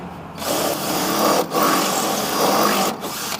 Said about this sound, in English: I'm going to drill it out and tap